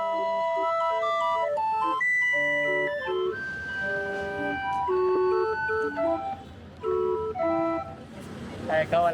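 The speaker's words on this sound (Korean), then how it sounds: "외발 손풍금 소리가 정겹다." A one-legged hand barrel organ on a Mexican street plays a wheezy, sustained melody over street noise. The tune thins out toward the end, and brief voices are audible near the close.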